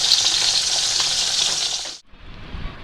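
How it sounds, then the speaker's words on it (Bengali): Fish frying in a kadai gives a loud, dense sizzle that runs steadily, cuts off abruptly, then resumes more quietly with light scraping; no one speaks. "চলো মাছ ভাজা বসিয়ে দেই তো"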